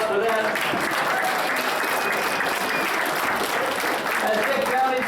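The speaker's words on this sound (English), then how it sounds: "Give yourself a great round of applause for that." A crowd at an outdoor rally against the Constitution Pipeline in Afton claps steadily, with dense, sustained applause that stays loud throughout and a few cheers mixed in.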